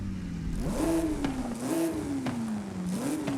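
A classic Maserati's engine revs in Forza Horizon 5, rising and falling in several smooth sweeps at a steady moderate level with no talking.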